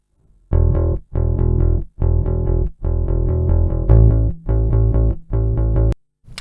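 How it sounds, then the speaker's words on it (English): A real bass guitar played through ToneX amp modelling runs a lick of seven or so loud, full-bodied phrases with short breaks between them, heard alone with no talking. "Let's have a listen to the real bass."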